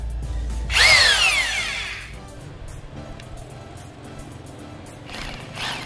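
A Bosch GBH 2-24 DRE rotary hammer drill in hammer-drilling mode gives one loud whirring burst that spins up and winds down over about a second, then settles to a low hum, with a fainter short burst near the end.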